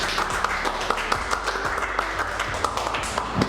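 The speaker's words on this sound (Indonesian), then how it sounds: "Tepuk tangan dulu dong buat Bapak kita kali ini" Audience applause for a guest speaker at a Ramadan edutainment talk, with a dense patter of clapping and scattered sharper claps over a low background hum.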